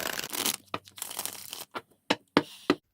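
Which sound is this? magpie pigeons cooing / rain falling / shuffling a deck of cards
shuffling a deck of cards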